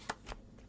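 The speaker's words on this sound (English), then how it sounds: "Get this shuffled, and we'll choose out a random card." Playing cards shuffled by hand during a magic stream, heard as two short papery riffling bursts close to the mic over faint room noise, with no talking.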